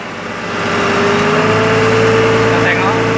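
A forklift engine rises from idle into a steady, louder rev as the forks are raised, a continuous low mechanical drone with a sustained whine, heard close by while someone talks over it.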